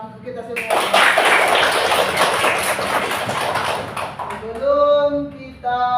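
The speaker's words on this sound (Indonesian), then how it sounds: "Sekali lagi tepuk tangan untuk kita semua." Group of people clapping hands together in a classroom gathering, a dense burst of applause lasting a few seconds before fading into talk.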